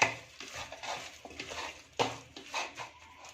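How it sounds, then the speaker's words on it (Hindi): Spices and ginger-garlic paste being mixed by hand in a bowl for fried chicken: soft wet squelching and scraping strokes with light clinks against the bowl, close and quiet. "हाथ की वजह से मैं इसे ज़रा सही से मिक्स कर रही हूँ।"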